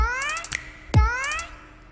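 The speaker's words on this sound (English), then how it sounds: "essentially what you're doing is that you're ramping up the pitch" A synthesized sample with pitch automation sweeping upward from a root C to a high C, heard as two rising tonal glides, each followed by a punchy low thump. The sweeps are clear and moderately loud, with no talking.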